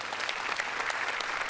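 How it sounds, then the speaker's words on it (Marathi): A theatre audience claps loudly and steadily, a dense uninterrupted burst of applause. "संजय सरांसाठी जोरदार टाळ्या"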